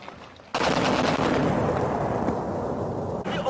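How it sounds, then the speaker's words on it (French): Sustained heavy gunfire during a French army combat engagement, a dense continuous roar of shots and blasts that starts abruptly after a brief quieter moment and stays loud throughout. "Ça tire par là-bas, là."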